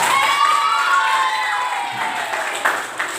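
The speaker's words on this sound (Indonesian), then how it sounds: "Tepuk tangan yang meriah." Schoolchildren clapping and cheering loudly in a classroom, with high-pitched shouts and cheers riding over the continuous applause.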